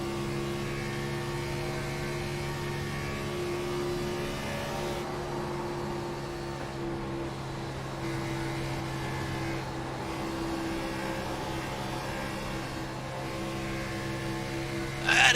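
A race car engine drones on a racing circuit, holding a steady harmonic note that briefly dips several times as the driver lifts slightly off the throttle. The car sounds distant and moderate in level, with no speech.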